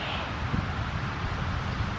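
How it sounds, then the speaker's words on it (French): Cool outdoor wind buffeting the microphone on a sunny day, a steady broadband rumble with small gusty swells, no speech heard. "le vent est un peu frais"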